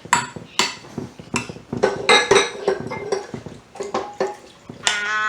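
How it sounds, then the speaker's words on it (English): Peach filling tipped from a bowl into a 9x13 baking pan for a vegan cobbler, with close clinks and knocks of a utensil against the dishes in an uneven rhythm. "pour our peaches, the mix, into the bottom of this pan"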